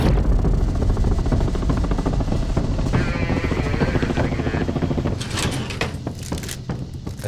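An air ambulance helicopter airlifting an injured man, its rotor thudding loud and steady throughout, with a brief door-like clatter and bursts of noise near the end.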